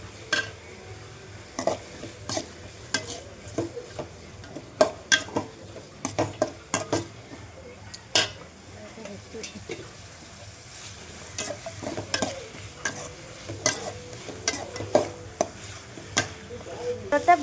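A spoon stirs ginger garlic paste into a rice mixture in a metal pot, scraping and clinking in irregular bursts of taps over a quiet background sizzle, close by.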